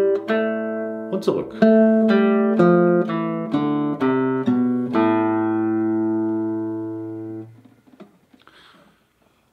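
Guitar plays a scale of natural notes beginning on C, about eight plucked notes in a steady even rhythm that rise and then ring out. A voice speaks briefly near the end.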